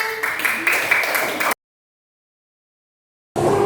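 Students clap their hands in a classroom for a short burst of a second and a half, then silence, then clapping resumes briefly at the end.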